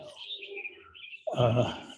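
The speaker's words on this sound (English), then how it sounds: "The birds are noisy this morning." Birds chirping and chattering in the morning: bright, overlapping twitters and calls, moderately close, joined near the end by a louder, rougher call.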